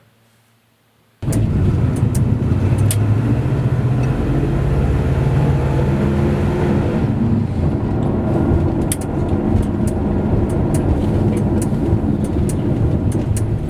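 A car with a 454 engine, fresh Edelbrock intake and 700R transmission on a road test drive, its V8 rumble and road noise starting abruptly after a quiet moment and holding steady and loud throughout.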